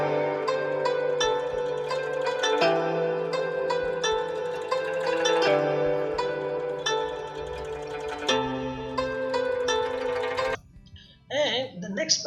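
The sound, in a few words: guzheng sample with stereo plugin effect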